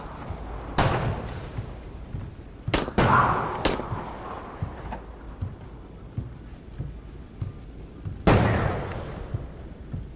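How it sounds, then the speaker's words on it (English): Gunfire rings out in a video game raid, with several sharp, loud shots spaced apart across the span, some in quick pairs and one heavy blast near the end, over quiet background rumble. "They're shooting at you."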